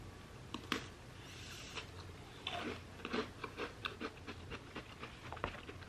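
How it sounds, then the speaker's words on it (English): A cookie being bitten and chewed close up, with soft crunches and mouth sounds repeating irregularly over a few seconds at low volume, no talking. "Let me just eat this cookie first."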